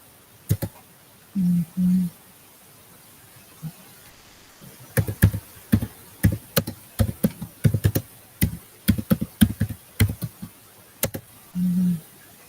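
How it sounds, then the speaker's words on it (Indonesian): Sharp keyboard clacks rattle out in irregular bursts, loud and close, with a few short low murmuring sounds in between. "siapa itu mengetik keras sekali?"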